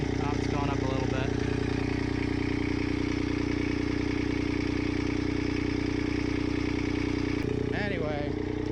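A Kubota D1105 diesel engine on a ZD1211 mower runs steadily at close range, an even rumbling idle with a person talking over it throughout.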